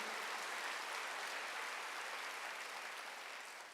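A congregation claps during a Sunday worship sermon at a Korean church, a dense even wash of applause that holds steady and eases off slightly at the end.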